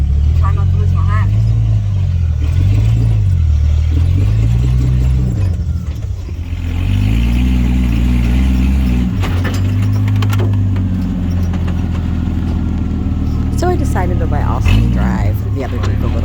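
A Jeep bumps along a rough trail, its mid-pitched engine droning steadily with rising and falling revs and occasional clatter, while people talk over it throughout.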